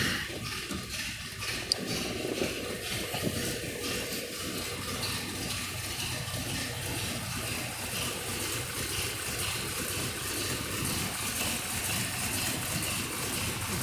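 A 1960 Chevrolet Corvette Fuelie with a fuel-injected V8 idles in a shop, a steady low chugging rumble held evenly throughout, close and moderately loud, with no talking.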